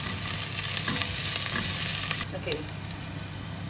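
Onions sautéing in hot oil for tofu sisig give a loud, steady sizzle with stirring scrapes. The sizzle drops slightly partway through, and a brief word is spoken.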